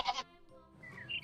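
A goat gives one short, bright bleat right at the start, followed by quieter scattered sounds, in a children's alphabet song.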